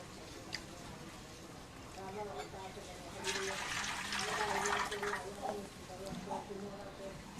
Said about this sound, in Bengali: দেখতে পাচ্ছ বন্ধুরা আমি কীরকমভাবে চালটা ধুচ্ছি